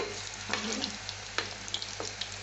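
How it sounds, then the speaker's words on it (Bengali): Nimki dough pieces fry in hot oil, a steady close sizzle running throughout with a few brief louder crackles and stir scrapes breaking through. "একটু লাইট গোল্ডেন করে ভেজে নেবেন আর কি"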